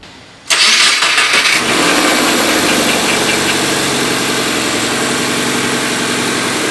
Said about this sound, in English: So we fired the car up.